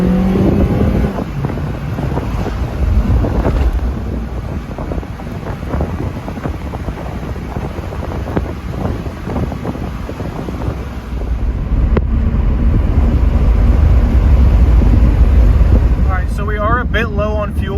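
Steady roaring wind buffeting the microphone inside a convertible car driving with the top down, loud and continuous with low engine and road rumble beneath, swelling stronger toward the end.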